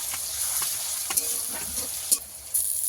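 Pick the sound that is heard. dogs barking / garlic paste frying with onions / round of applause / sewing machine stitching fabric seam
garlic paste frying with onions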